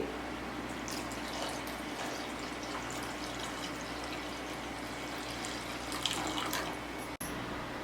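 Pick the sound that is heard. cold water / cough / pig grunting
cold water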